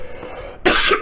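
Harsh cough bursts out after a stretch of quiet, a single loud fit of coughing and throat clearing near the mic with no talk over it.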